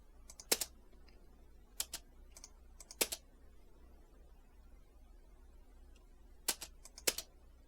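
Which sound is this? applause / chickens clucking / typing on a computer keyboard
typing on a computer keyboard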